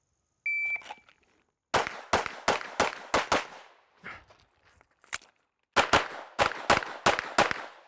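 Gunshots from a shooting drill with a reload: a beep signal, then a fast string of sharp, loud, close shots, a brief pause for the reload, and another rapid volley of shots.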